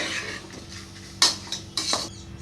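Soaked basmati rice being roasted in a pan for channa biryani, with repeated metallic scrapes and clinks of a spoon stirring against the pan, close and fairly loud.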